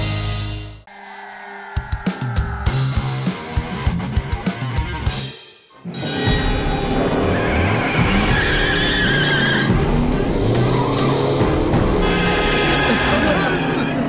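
A car driven recklessly skids with loud tire squeals and a roaring engine, starting with a sharp screech, breaking off briefly, then returning as a sustained close skid and rev.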